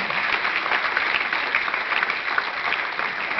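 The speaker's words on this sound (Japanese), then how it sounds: "もっと拍手してください。" Steady applause from an audience at a Japanese political gathering, a dense even wash of clapping that holds for a few seconds with no voices on top.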